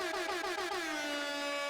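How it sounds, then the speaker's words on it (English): A single sustained air horn blast goes off at a live poetry and music showcase, loud and brassy, with a pulsing start that settles into a steady tone before fading out. "I'm gonna need way more of those air horns throughout the show"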